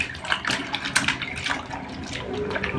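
Squid being washed in water, a steady splashing and sloshing with rubbing bursts throughout, close and fairly loud.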